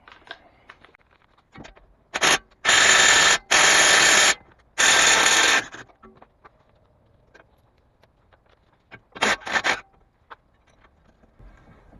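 Bolts on the front strut brackets of a Subaru WRX being undone with a power tool, heard as several loud buzzing bursts in close succession and then a shorter pair a few seconds later, with quiet clanks between.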